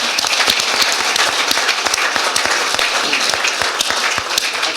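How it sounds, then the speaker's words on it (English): An audience bursts into dense, close applause at an Italian Job fiftieth anniversary gathering, rapid overlapping hand claps continuing loudly and evenly for the whole stretch. "So I think that deserves a round of applause, doesn't it?"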